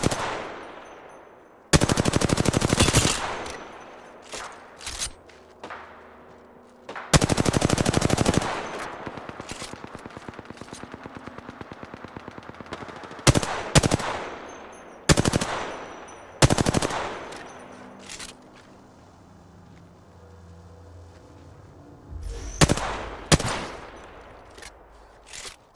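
Video game gunfire in a battle-royale match, coming in repeated loud bursts of rapid automatic shots separated by short lulls, with sharp single cracks in between.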